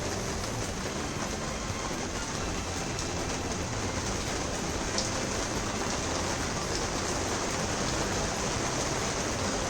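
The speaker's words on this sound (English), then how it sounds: "And wow, it started raining." Steady rain falls outdoors, a dense, even hiss of drops hitting surfaces, continuous throughout with no voices.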